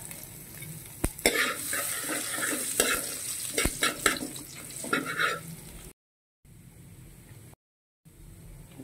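Ginger hits hot oil in a pan for a milkfish-innards papaitan, giving a bright close sizzle with stirring scrapes and a sharp clink, then the sound drops out and returns quieter in short stretches.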